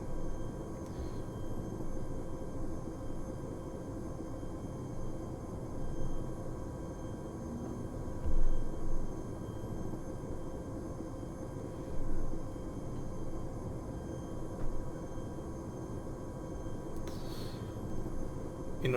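Simulated aircraft engine in flight from a flight-sim training sortie, a low steady drone with slight surges in intensity, continuous and fairly quiet with no talk over it.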